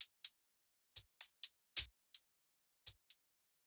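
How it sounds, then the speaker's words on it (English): Extra hi-hat layers for a Romanian minimal house track, with tambourine and synth hi-hat: sparse bright ticks and shakes in an irregular pattern, a few with a soft low thump, played alone. "we have like these extra little hi-hat layers"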